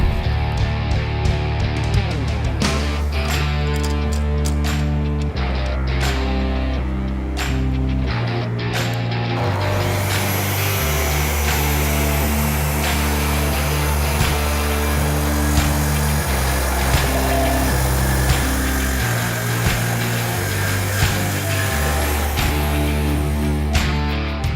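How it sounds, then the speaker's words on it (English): A planer runs over an aromatic cedar and epoxy table top, a loud steady mechanical drone with strong hum and sharp cutting bursts as the blades bite, continuous and close with no talk. "We'll go in for 1 more round of planing to get the epoxy glued off."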